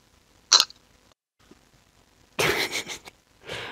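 A person burps close up: a sharp brief burst, then after a pause a longer rasping, squeaky belch and a shorter trailing one, with no talk.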